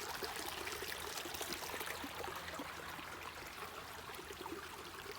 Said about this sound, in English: I was just videoing this little creek